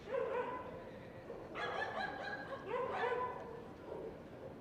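Dogs bark on a Soho street in New York City, several sharp yipping bursts in two or three clusters over steady outdoor city noise, moderately close.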